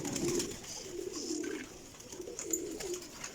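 Pigeons coo in low, rolling phrases that repeat several times across the few seconds, close by, with a faint hiss of background noise and no voices.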